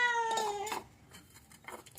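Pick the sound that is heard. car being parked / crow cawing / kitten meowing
kitten meowing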